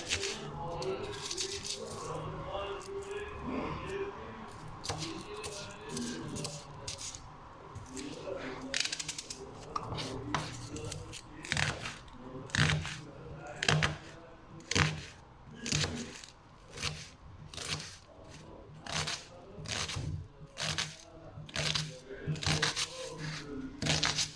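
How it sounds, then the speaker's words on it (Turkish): Knife finely chopping an onion on a board for a Turkish chickpea stew, with fast, regular cutting taps growing sharper and more rhythmic in the second half, close and moderately loud, while someone talks throughout. "soğanımızı bu şekilde doğruyoruz küçük küçük"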